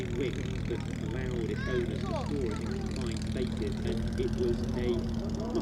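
De Havilland DH-51 light aircraft with a small 750cc engine passing at an aviation event, its propeller drone steady under continuous talk from a commentator and a background of shifting tones.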